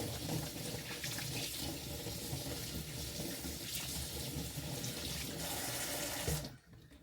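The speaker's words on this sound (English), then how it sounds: "Let me wash my hand here." Water runs steadily from a kitchen tap as hands are washed beneath it, a continuous close splashing rush that stops abruptly near the end.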